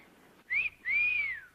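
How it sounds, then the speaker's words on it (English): Two shrill blasts on a whistle, a short chirp and then a longer sustained tone that bends slightly in pitch, sounding clear and close in a quiet room. "Ernie can blow his whistle if that's what you want"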